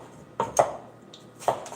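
A kitchen knife cuts through a halved cabbage, with three crisp chopping taps onto a board, two close together and one after a pause, heard clearly with no talking.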